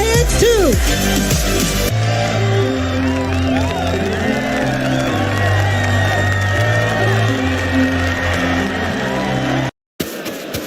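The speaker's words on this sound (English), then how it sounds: "One more round of applause for our crew for the AX-2 mission." A crowd cheers and whoops for the returning AX-2 space mission crew, a steady loud roar of voices with shouts, broken by a brief cut near the end.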